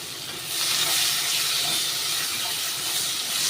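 Two chopped onions hit a hot pan, setting off a loud, dense hissing sizzle that swells and then holds steady for a few seconds.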